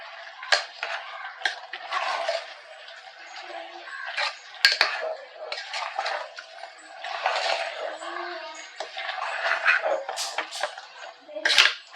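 Spoon scraping and clinking against a pot while two teaspoons of chili powder are stirred into a dish being cooked at home, with repeated close, uneven knocks and scrapes and a steady background hiss.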